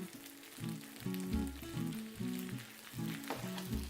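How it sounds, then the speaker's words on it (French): Fresh spinach cooking in a knob of butter in a pan, a steady close sizzle and fry with soft stirring scrapes rising and falling throughout, no talking. "j'ajoute une noisette de beurre et je vais cuire mes épinards frais"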